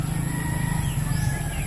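Chickens cluck in a short, continuous burst, a busy mix of low clucks and chatter from several birds nearby, with no talk over them.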